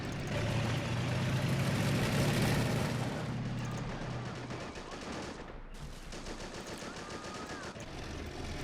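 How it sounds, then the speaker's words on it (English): MG42 machine gun firing in Men of War: Assault Squad 2, dense rapid bursts of automatic fire over the first few seconds, then a quieter battlefield backdrop with scattered distant shots and rumble. "MG42 firing out from up there"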